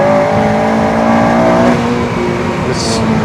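A Honda Civic Type R FN2 with a K20 VTEC engine revs hard on the Nordschleife, a loud, close, sustained high-pitched engine note climbing in pitch through a gear, with steady road and wind roar beneath.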